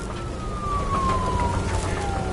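A police car siren in the video game Nobody Wants To Die wails as a single falling tone over a dense rumbling background, steady and fairly loud throughout.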